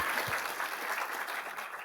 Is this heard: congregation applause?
yes